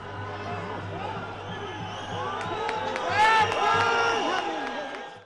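Excited protest crowd outside the Prime Minister's office during a night of molotov cocktails, a dense roar of many voices with shouts and whistles, swelling louder toward the middle and staying intense.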